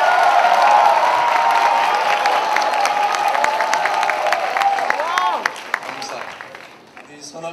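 Audience applause and cheering fill an evening worship service at the 63rd national SFC retreat, with a dense wash of clapping and voices that holds steady before thinning out near the end.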